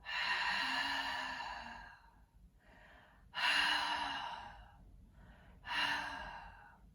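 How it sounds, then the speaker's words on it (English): Three slow, breathy exhales pushed through the back of the throat during a relaxing floor exercise, each one close and audible, separated by short quiet pauses. "Exhale through the back of my throat."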